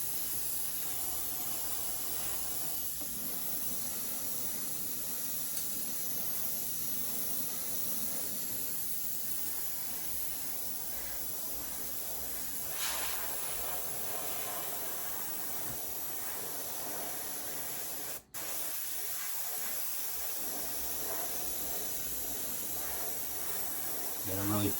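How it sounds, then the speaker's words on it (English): An airbrush sprays black paint at about 30 psi onto a model figure, a continuous faint airy hiss running steadily with only a brief dropout near the end. "You gotta really press down hard on your airbrush"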